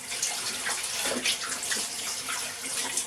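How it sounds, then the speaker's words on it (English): Tap water runs steadily into a kitchen sink while hands are washed beneath it, a close, bright splashing rush with small fluctuations as the hands move through the stream. "Wash my hands."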